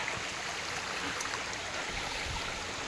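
Water flowing steadily at the 7 Wells waterfalls, a continuous broad rushing wash that stays even and moderately loud throughout, with no voices.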